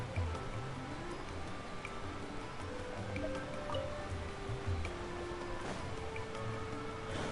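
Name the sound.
water level rising in Genshin Impact video game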